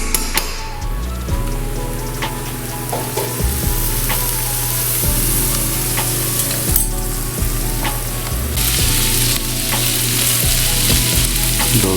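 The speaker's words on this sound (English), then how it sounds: "I'm gonna add in the rest of my white onion that's finely chopped, and I'm gonna get those nice and softened." Finely chopped white onion fries in a pan with a steady, loud sizzle that runs throughout, broken by occasional knocks and scrapes as it is stirred.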